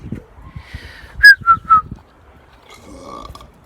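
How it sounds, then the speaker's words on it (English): A person lets out a burp in three quick, tonal, squeaky pulses, close and fairly loud, with quiet rustling around it. "Burp"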